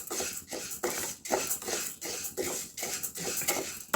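Wheat grains being dry roasted in a pan for a health mix powder, with rhythmic scraping and stirring strokes against the metal pan, repeating steadily about twice a second with light clinks.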